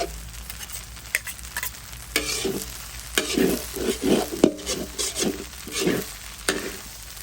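Vegetarian spring roll filling sizzles steadily in a well-oiled frying pan while a utensil stirs and scrapes it in a loose, repeated rhythm, close and moderately loud.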